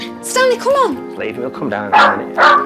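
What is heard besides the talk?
cairn terrier barking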